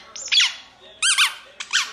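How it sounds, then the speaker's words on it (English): A squeaker tennis ball dog toy gives three sharp, high squeaks, each with a wavering pitch, separated by short pauses in a quiet room. "squeaky tennis balls. Squeaker balls is what it's called."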